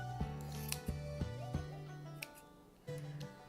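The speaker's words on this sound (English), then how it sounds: "Cut your tail, and then you're going to cut your loops." Scissors snip through the yarn loops of a starburst pom pom made on a loom, giving several crisp, close cutting clicks spaced about half a second apart, followed by a short pause and one final snip.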